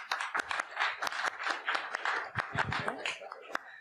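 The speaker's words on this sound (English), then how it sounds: "All right, let's give Tom a round of applause." Audience members clap for Tom at a website talk, a thin scattering of separate claps rather than full applause, with a little chuckling and some talk mixed in.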